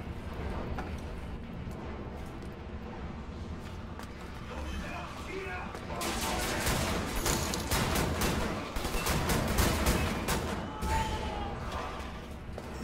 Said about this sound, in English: I think the explosion just, like, murdered us.